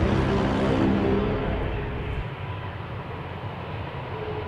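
An Airbus A330 airliner takes off with a loud rumbling engine roar that is strongest at first and then eases slightly as it climbs away, heard alone without talk.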